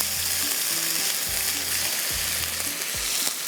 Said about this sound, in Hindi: अब थोड़ा सा इसको फ्राई करेंगे